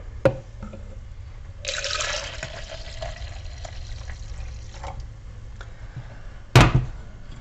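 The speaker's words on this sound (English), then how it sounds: "I'm going to transfer some of it to a jug" Liquid left from mozzarella making is poured into a jug. The steady splashing pour lasts a few seconds between scattered drips, then a sharp knock sounds near the end, with no voices.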